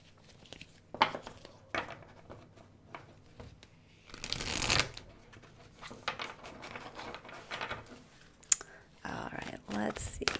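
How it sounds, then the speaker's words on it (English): A deck of tarot cards being shuffled at close range: a run of soft riffling clicks and patters with a louder burst of riffle in the middle, then more scattered card handling. "I'm going to pull a final card here for you"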